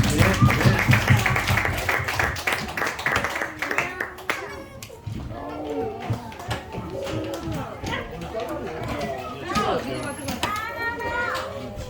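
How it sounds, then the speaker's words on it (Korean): Church congregation clapping during a Sunday worship service, a loud burst of applause at the start that fades into scattered claps, children's voices and chatter. "우리 주님께 영광의 박수 올리겠습니다."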